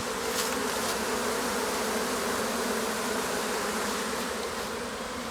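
A dense swarm of honeybees hovers around an apiary hive, making a loud, continuous, close buzzing drone that holds steady throughout with no speech.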